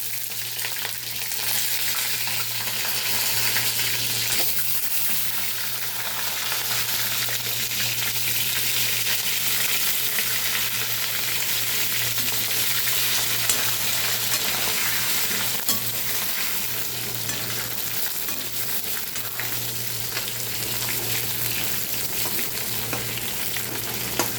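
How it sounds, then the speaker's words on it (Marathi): Masala-stuffed brinjals frying in hot oil, a dense continuous sizzle with a steady hum beneath, close and loud, with faint stirring scrapes and no talking. "थोडी तेलात फ्राय करून घ्यायचे आहेत वांगे"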